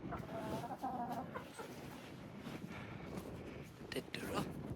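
Hens cluck in a coop holding eleven hens and two roosters, soft overlapping clucks and short calls at close range, mixed with a person talking quietly.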